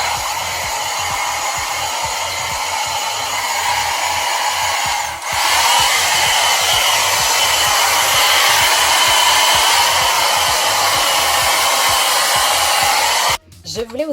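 A hot-air straightening brush with two heat settings blows a loud, steady, close whoosh of air. There is a brief dip partway through and an abrupt cutoff near the end.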